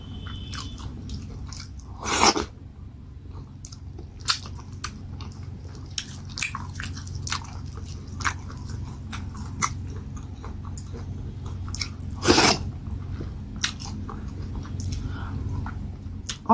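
Someone eats oats fufu with okra soup up close, soft wet chewing and sticky smacks repeating through, with two louder bursts of sound along the way.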